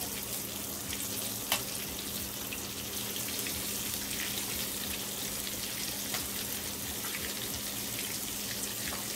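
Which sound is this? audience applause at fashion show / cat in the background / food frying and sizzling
food frying and sizzling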